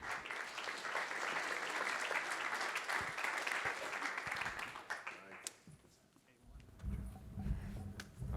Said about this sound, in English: Round of applause for Jim and Jake.